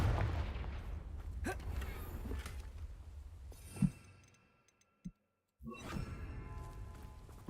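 A Confringo fire spell blast in the game Hogwarts Legacy goes off as a sharp burst with a whooshing, crackling tail over steady game ambience. It is followed by a quieter pop, a short near-silence, and then the sound resumes.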